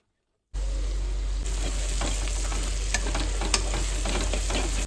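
Onions frying fast over a high gas flame give a steady, loud sizzle after a short silent start, with scattered crackles and a few sharp pops and spatters near the end.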